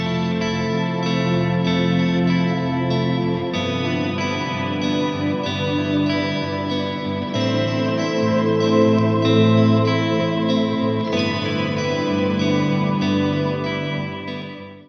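Guitar cover of a main theme, swelling sustained chords drenched in chorus, distortion and echo, loud and continuous with no voice, fading at the very end.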